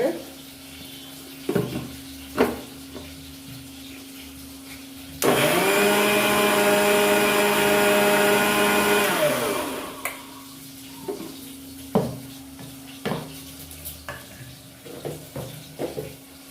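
A mixer grinder whirs loudly through onion tomato masala for about four seconds, a dense steady roar that winds down, framed by quieter kitchen clatter and knocks before and after.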